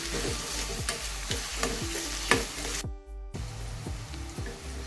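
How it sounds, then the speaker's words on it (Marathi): Chopped onion, finely cut green chillies and curry leaves fry in a pan, a steady sizzle broken by regular scraping stir strokes at a quick, even rhythm, with one brief cut-out midway. "इथे दोन मिरच्या बारीक चिरून घेतलेल्या आहेत त्यानंतर कढीपत्ता आपल्याला कांदा आणखी शिजवायचा आहे"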